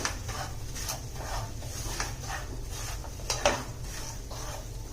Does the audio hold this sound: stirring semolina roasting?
yes